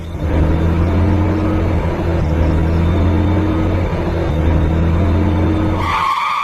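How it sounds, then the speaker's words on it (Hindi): A car brakes hard and skids in a horror story, a loud sustained tire screech and rumbling engine drone held steady for several seconds before abruptly cutting to a different sound. "और जोर से ब्रेक दबा देता है।"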